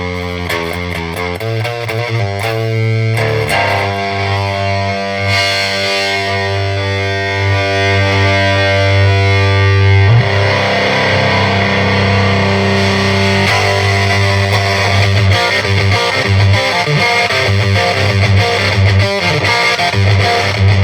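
Electric guitar played through a 1970s Morley Power Wah Fuzz pedal, giving a gated, starved-bias fuzz; loud, sustained distorted chords and notes ring steadily for about twenty seconds with no talking.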